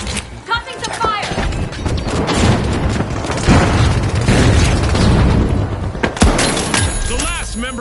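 Fire grenade bursting in The Finals, an arena shooter, with heavy booming blasts and crackling debris through a dense, loud stretch, another sharp burst near the end, and voices talking over the chaos.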